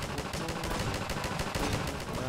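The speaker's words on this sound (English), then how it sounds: "I'm only hitting props when I'm shooting at the zombies" Rapid gunfire from shooting zombies in Garry's Mod, a dense string of close, evenly spaced shots running steadily for a couple of seconds.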